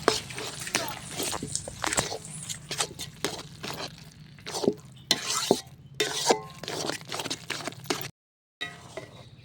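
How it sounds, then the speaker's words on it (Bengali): Taro leaves (kochu shaak) being stirred in a pan, with a spatula scraping and clacking against the metal over a low sizzle, in irregular strokes with a short gap near the end. "এবার কচু শাকটা ভালো করে নেড়ে নেড়ে রান্না করতে হবে"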